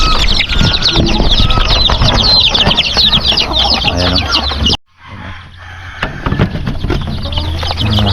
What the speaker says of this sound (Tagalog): ipapakainin muna natin itong mga manok natin